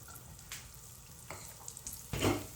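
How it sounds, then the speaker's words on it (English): Rice dumped into hot oil in a pot for Spanish rice starts to sizzle and brown, a soft steady frying hiss with a few scraping stirs and a louder burst near the end. "Hear that little bit of a sizzle."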